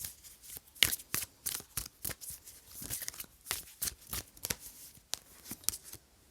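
Tarot cards being shuffled by hand, a run of crisp, close riffles and slaps in an uneven rhythm with no talk over them.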